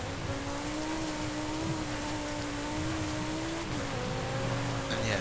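A Lamborghini Huracán Sterrato V10 hums at a steady, sustained pitch while driving off-road in Forza Horizon 5, with a continuous engine tone and faint gravelly texture underneath and no talking.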